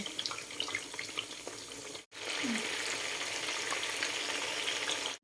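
Steady crackling sizzle of battered vegetables and pork deep-frying in a new pan, close and continuous, with a brief break partway through.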